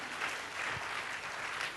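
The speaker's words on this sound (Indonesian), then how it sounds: "Tepuk tangan bagi Tuhan." A church congregation claps together in steady, dense applause that runs without a break, heard fairly faintly with no voices above it.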